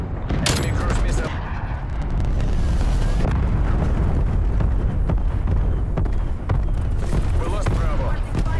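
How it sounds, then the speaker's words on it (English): An enemy cruise missile explodes amid a video game firefight, its booms lost among dense rapid gunfire, bursts and crackling blasts that stay loud and continuous throughout, with announcer-style voices mixed in. "Enemy cruise missile."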